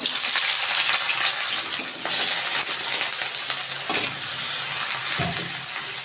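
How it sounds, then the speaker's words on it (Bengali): Chopped green chilli and small onions fry loudly in mustard oil in a wok, a dense, close, continuous sizzle with brief surges and a couple of stirring scrapes. "আমি কড়াইতে সর্ষের তেল দিয়ে দিচ্ছি আমি দিচ্ছি একটা কাঁচা লঙ্কা কুচি কুচি করে নিয়েছি আর ছোট ছোট দুটো পেঁয়াজ"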